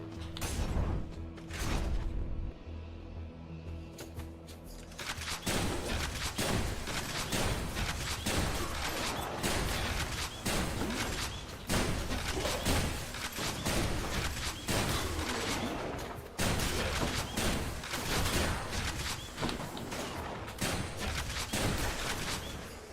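Rapid gunfire in StarCraft II: Legacy of the Void on Hard difficulty, loud dense bursts of shots and thumps firing almost without pause, with one short lull early on.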